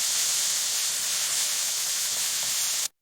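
Minced meat frying with onion and garlic for a zucchini and meat tagine makes a loud, even, continuous sizzle and hiss up close that cuts off abruptly at the end, with no speech.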